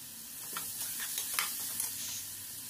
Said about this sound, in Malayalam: ചേർത്ത് നന്നായിട്ട് വഴറ്റാം